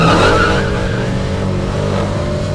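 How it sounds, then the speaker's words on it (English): A Dodge drag car does a smoky burnout with its line lock engaged, giving a steady, loud engine roar under continuous tire squeal that runs the whole time at close range. "do a nice little smoky burnout here to clean and warm my tires"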